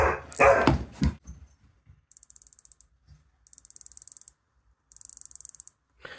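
A dog barks loudly a few times up close at the start, then falls quiet; afterward a watch bezel is turned in three separate bursts of fine, rapid ratcheting clicks.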